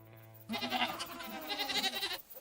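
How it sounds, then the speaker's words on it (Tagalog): Several goats bleat together in a wavering, drawn-out chorus, fairly close, with no talking. "Ang mga kambing naman ay pumila at humarap kay Tia Melinda."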